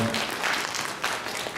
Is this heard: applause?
yes